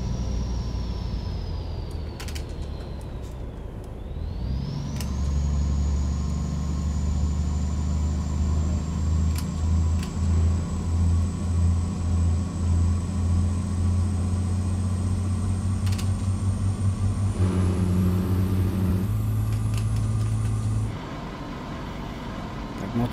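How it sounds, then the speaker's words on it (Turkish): Scania 144L truck engine brake in Euro Truck Simulator 2, a steady low throbbing rumble with a pulsing drone that holds for most of the stretch, with a whining tone rising over it and no talking. "Böyle gürür gürür bir motor freni olması lazım bunda."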